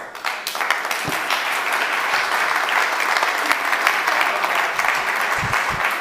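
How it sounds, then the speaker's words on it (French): Audience applause following an opening speech at a day-long debate event, a dense, steady roar of clapping that carries on for six seconds at full strength. "je crois qu'on peut applaudir Jacqueline Gouraud pour cette ouverture"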